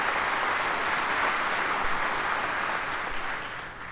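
At the 2020 Mississippi governor's inauguration ceremony, the audience breaks into dense, steady applause that holds evenly and then begins to taper near the end.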